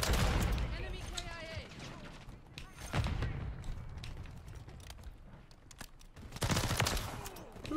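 Full-auto M16 fire in Modern Warfare 3 crackles in rapid bursts, with sharp shots and a heavier volley near the end, while someone talks over the shooting.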